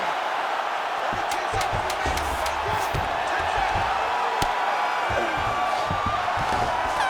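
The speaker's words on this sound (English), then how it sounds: "there's the horn, an appreciative crowd responding in kind" Arena crowd in the UFC 5 fighting game cheers steadily under a commentator's voice, with sharp percussive hits and a brief horn marking the round's end amid the continuous roar.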